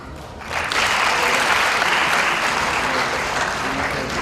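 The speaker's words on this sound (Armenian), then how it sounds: "ծափարենք մեր սիրելի Աշուղին իր ստեղծագործությունների եւ այսօր հոբելյանական երեկոյի համար" An audience at a jubilee evening honouring an ashugh, an Armenian folk bard, bursts into loud, sustained applause that swells in after half a second and carries on densely to the end.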